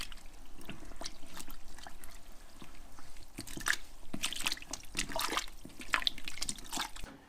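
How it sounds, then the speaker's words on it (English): A homemade elderflower champagne mixture with limes and lemons being stirred, giving a soft watery sloshing and trickling with irregular splashes, close by and moderately quiet. "it's then time to give it a stir."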